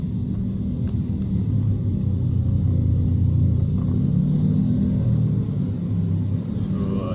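Heavy weekday-morning road traffic on EDSA near Ortigas in Metro Manila, a dense continuous engine rumble and hum of many vehicles, steady and fairly loud throughout with no talk.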